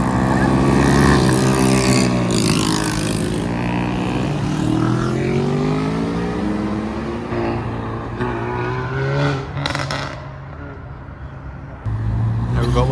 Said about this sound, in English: We've got one of the STI hatches leaving.